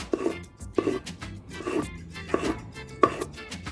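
A knife chopping fresh ingredients on a cutting board, several distinct cuts in an uneven rhythm, close and clear with no talking.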